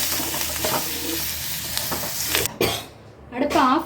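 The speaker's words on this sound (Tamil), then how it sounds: "தேங்காய் போட்டுக்கலாம். கருவேப்பிலையும் போட்டு அது கூட நல்லா வதக்கலாம்." Grated coconut and curry leaves sautéing in a pan for mutton curry, a close sizzle with stirring scrapes, then a brief pause and a muffled voice near the end.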